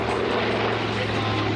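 A twin radial-engine aircraft with an inverted gull wing drones past at an airshow, a steady, rough propeller roar at moderate distance with no pause.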